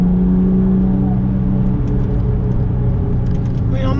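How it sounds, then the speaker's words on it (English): A 575 bhp Porsche 911 996 Turbo X50 pulls on a canyon road, its engine a steady, loud, low droning note heard from the cabin, with a faint rising whine near the end. "if I just progressively steer, progressively get on the gas, everything gentle and feed in the power"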